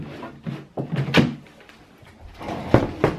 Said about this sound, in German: So, die letzte Schublade.